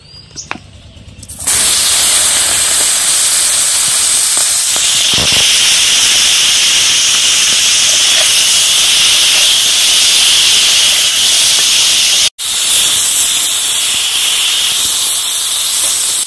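Green beans drop into hot mustard oil and burst into a loud, steady sizzle that holds strong and close, hissing continuously after a quiet start.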